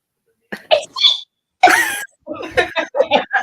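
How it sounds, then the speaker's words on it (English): A single sharp sneeze bursts out at close range from a woman, set among breathy vocal sounds and short bits of speech. "I'm going to sneeze."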